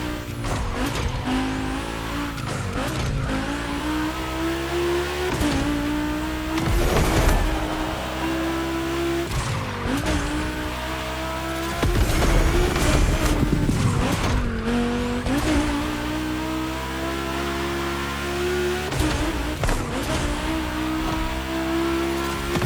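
Volkswagen cars racing on a track in the game The Crew Motorfest: loud engines revving and shifting through gears, with repeated tire squeals and skids as cars corner and pass close by, continuous throughout with no talk.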